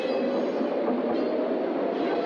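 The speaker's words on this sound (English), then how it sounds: "And then the train leaves." A train pulls away as a sound effect, a steady loud rumble of rail noise with faint clatter holding evenly throughout, and no voices over it.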